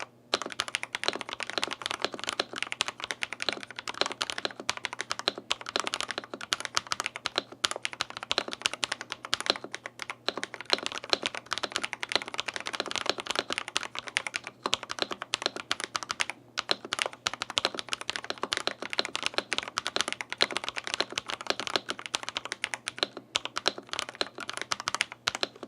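A budget office keyboard is typed on quickly and continuously, producing a dense, close stream of crisp key clacks with brief pauses scattered throughout, and no one speaks.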